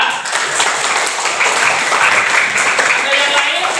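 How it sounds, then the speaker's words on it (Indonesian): Classroom applause for a student, a dense steady patter of many hands clapping close by, filling the whole stretch without pause. "tepuk tangan buat Mbak Akila"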